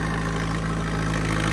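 A Mahindra 595 tractor idles beside a wet field with a steady, close, low throbbing hum that holds evenly throughout, with no talk.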